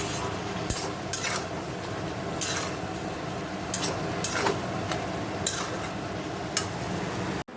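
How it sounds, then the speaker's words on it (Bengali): Red amaranth greens fry in a pan while being stirred, with a constant sizzle broken by repeated scraping and clinking strokes of a utensil against the pan, close and moderately loud. "আর লাল শাক ভাজা বসিয়েছি।"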